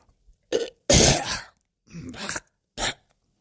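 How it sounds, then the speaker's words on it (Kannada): A cartoon character in a Kundapura Kannada animated comedy lets out several loud, harsh coughing and throat-clearing bursts close up, with short silent gaps between them. "ಓಹೋ, ಕೆಮ್ಮು ಜೋರಾಯ್ತು ಗಣಸಿಗೆ."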